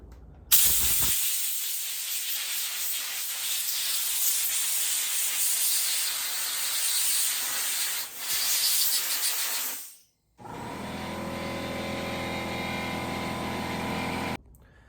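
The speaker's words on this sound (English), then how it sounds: "we're just going to get the compressor and we're just going to blow it off" Loud, steady blasts of compressed air hissing as a compressor blows water off a radiator, one long burst then a short pause before a second burst with a lower rattling tone.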